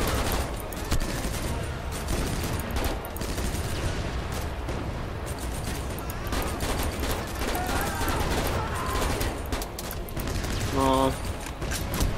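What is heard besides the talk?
gunfire from the video game Steel Fist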